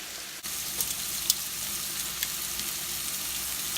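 Steak frying in a pan: a steady, close sizzle with a few sharp crackles and pops, no voices.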